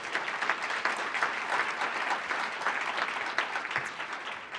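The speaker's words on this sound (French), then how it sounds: "Donc, une bonne main d'applaudissement pour les récipiendaires." A conference audience applauds award recipients, sustained clapping from a sizable crowd at moderate distance, even and continuous.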